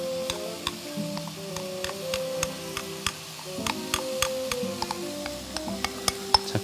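Seasoning sauce hits stir-fried pork in a hot pan, giving a steady, moderately loud sizzle with frequent ticking pops and clinks from stirring throughout.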